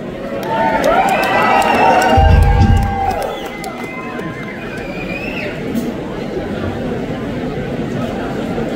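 Live concert crowd at The Union in Salt Lake City cheering and shouting, a loud swell of voices peaking briefly before settling into steady crowd noise with scattered whoops.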